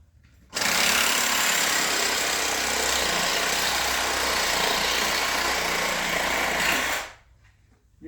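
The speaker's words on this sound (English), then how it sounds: "But I just use my Sawzall." Sawzall reciprocating saw cutting through deer bone makes a loud, harsh buzzing roar that starts abruptly, holds steady for about six seconds close up, then cuts off.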